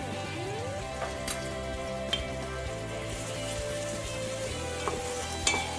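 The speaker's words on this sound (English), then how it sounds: "Now I'm adding half teaspoon of ginger garlic paste" Ginger garlic paste sizzles and fries steadily in a hot pan, with a constant crackling hiss close by and a few sharper pops and stirring clicks.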